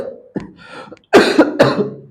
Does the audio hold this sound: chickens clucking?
no